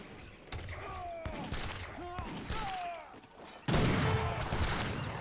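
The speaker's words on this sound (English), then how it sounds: "That's a good volley there." A musket volley in Age of Empires 3 sounds as several sharp cracking shots amid battle noise, with a louder burst of fire near the end and a commentator talking over it.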